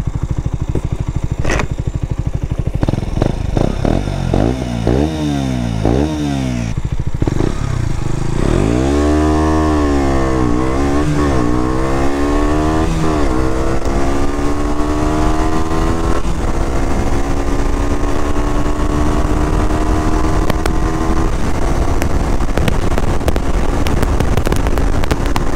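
A KTM Duke motorcycle engine revs up repeatedly, then climbs steadily through its gears in a long, loud acceleration with rising pitch, heard up close.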